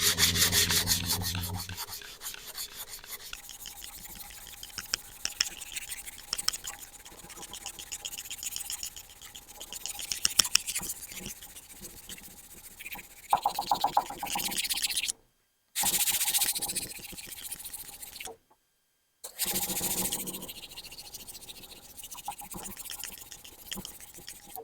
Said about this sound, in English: of course, it's epic hand sand time.